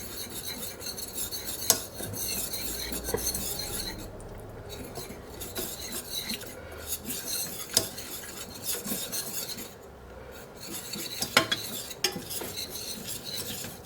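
Butter and flour roux stirred in a pan with a metal utensil, continuous close scraping and rubbing strokes with occasional sharp clinks against the pan, steady throughout.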